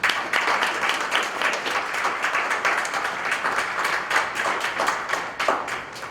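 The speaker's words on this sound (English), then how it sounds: "Can we give them another round of applause?" A crowd at a community event gives a sustained round of applause, many hands clapping in a dense, steady patter that stays loud throughout, with no speech.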